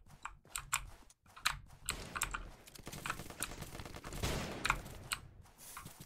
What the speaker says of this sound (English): Let's hear a shot go off.